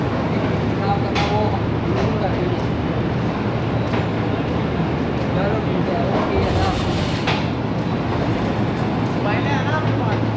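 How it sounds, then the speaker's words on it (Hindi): The 28 Down Shalimar Express pulls slowly away from platform 2 at Lahore Junction, a loud, continuous rumble of rolling carriages with people talking over it. "आहिस्ता आहिस्ता लाहौर जंक्शन के प्लेटफॉर्म नंबर 2 छोड़ रही है 28 डाउन शालीमार एक्सप्रेस"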